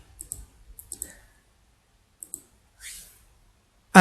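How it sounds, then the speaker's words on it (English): Sharp computer mouse clicks come close and dry, in small clusters with a soft rustle between them, ending in one louder click. "click OK"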